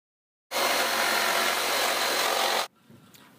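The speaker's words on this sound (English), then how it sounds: "this is called a jigsaw" A jigsaw power tool cutting, a loud, continuous buzzing rasp that starts abruptly, holds steady for about two seconds with an underlying low hum, then cuts off into near silence.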